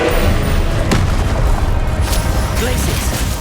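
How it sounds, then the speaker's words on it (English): An Incendio fire spell is cast in the Hogwarts Legacy video game, a sudden booming burst over a dense, continuous rumble of combat effects, with a few sharper pops scattered through. "Incendio!"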